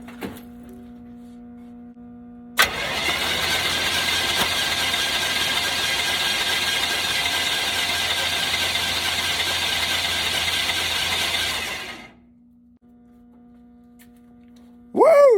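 A 1965 Cadillac hearse engine cranks over quickly on the starter for about ten seconds, a steady, loud mechanical whir that starts abruptly and then stops, with a low hum before and after.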